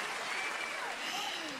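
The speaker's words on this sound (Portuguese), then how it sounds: "uma salva de palmas para ela" Steady applause from a church conference audience, a dense continuous patter of clapping that holds evenly throughout with no break.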